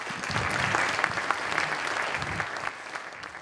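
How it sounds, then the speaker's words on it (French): Audience applause for young people and adults after a testimony session at a youth engagement conference: a dense, steady clapping crowd at moderate volume, continuous for a few seconds, with no speech over it. "Vous pouvez à nouveau applaudir les jeunes et aussi les adultes."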